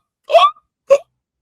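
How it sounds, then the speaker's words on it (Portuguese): A man hiccups twice while asleep, a sharp voiced catch followed by a shorter second one about half a second later, close and clear against silence. "lá soluçando enquanto dorme."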